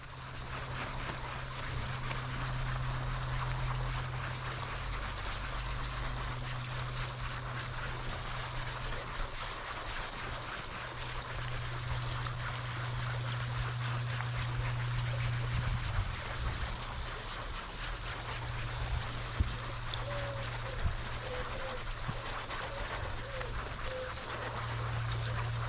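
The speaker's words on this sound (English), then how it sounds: "the roof was rinsed off with the pressure washer and 25-degree nozzle to remove the all-purpose cleaner residue" A pressure washer with a 25-degree nozzle rinses all-purpose cleaner residue off the fabric convertible top of a rare E36 California car, a steady hissing spray with a low pump hum throughout.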